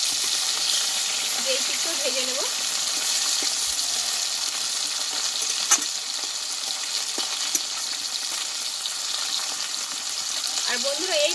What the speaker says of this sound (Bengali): মাছটা আমার একটি ভাজা হয়ে গেছে মাছগুলো আমি এইভাবে উল্টিয়ে নেবো